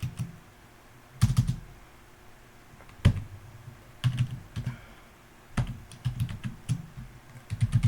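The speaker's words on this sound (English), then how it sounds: "We can start typing, say," Bursts of typing on a computer keyboard, quick clusters of close, soft key clicks separated by short pauses, with no talking.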